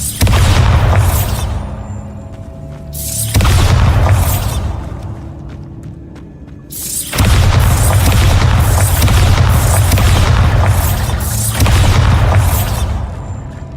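Bombarda explosion spells cast in Hogwarts Legacy: four loud, deep booms land a few seconds apart. Each blast rolls into a rumbling, hissing tail that fades before the next one strikes, and no voices can be heard.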